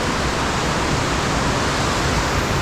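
An underground river flows through a cave with a dense, constant roar of rushing water, loud and close, steady from start to end with no voices.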